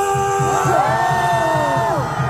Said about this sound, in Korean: 30대 함성!